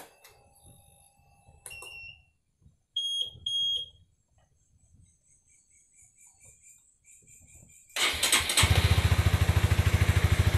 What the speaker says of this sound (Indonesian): Oke, motor udah nyala